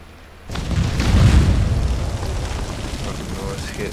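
Five placed bombs detonate in Conan Exiles as a loud, deep boom erupts and rolls into a long rumbling decay, with a little talk over it.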